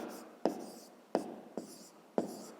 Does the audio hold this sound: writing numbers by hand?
yes